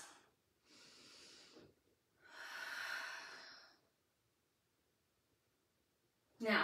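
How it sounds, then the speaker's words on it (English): A person breathes deeply while holding a Pilates stretch on a tower: two long, airy exhales separated by a pause, followed by quiet, then a sharp, loud breath burst at the end. "From there, I'm going to take a couple breaths."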